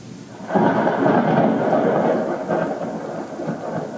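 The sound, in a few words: rolling thunderstorm sound effect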